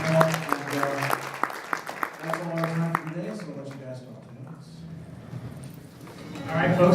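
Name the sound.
audience applause for the panelists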